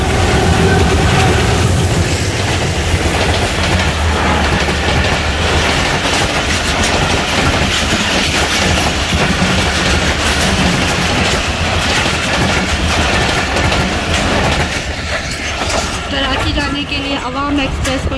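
Awam Express passenger train rolling past a halted tourist safari train in Pakistan, a loud continuous rumble with faint clickety-clack of wheels throughout, close by.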